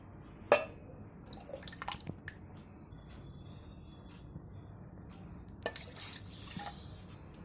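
Water poured into a glass while making mango lassi, heard as soft drips and brief splashes in a quiet kitchen, faint and intermittent with no one speaking.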